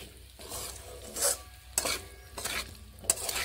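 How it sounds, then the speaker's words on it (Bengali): Cauliflower, potatoes and peas sautéed together in a pan, with repeated spatula strokes scraping and stirring over a soft, steady sizzle, close and without talk. "এবার আমি ফুলকপি ও আলুগুলোকে দিয়ে নিচ্ছি। ভালোভাবে সবগুলোকে একসঙ্গে এইভাবে কষিয়ে নিচ্ছি।"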